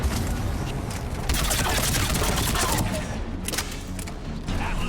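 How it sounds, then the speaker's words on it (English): Weapon in the Mass Effect 3 video game launching a cluster of semi-tracking missiles, a rapid crackling barrage of bursts and blasts that stays loud and dense for several seconds. "it sends out like a cluster of semi-tracking missiles"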